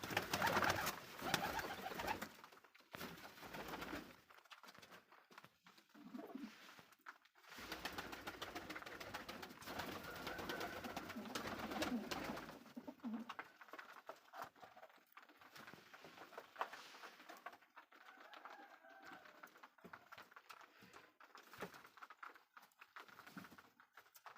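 Pigeons coo softly in a loft, with repeated low throaty calls, wing flutters and shuffling close by, fainter in the second half, no voices.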